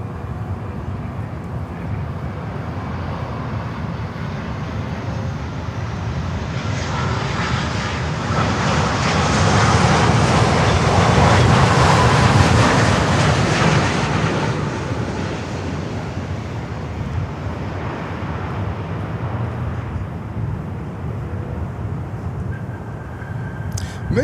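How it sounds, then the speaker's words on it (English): A Boeing 787-8 Dreamliner arriving at Miami airport, its broadband jet roar building steadily to a loud peak midway, then easing off but staying steady as it passes. "next inbound is the Dreamliner"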